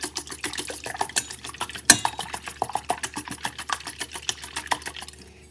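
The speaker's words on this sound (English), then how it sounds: "Whisk this slightly." Wet cake batter with vanilla for an almond and coconut flour Christmas fruit cake, whisked in a bowl; quick rhythmic clinking taps of the whisk against the sides, fairly quiet and steady, with one sharper knock midway.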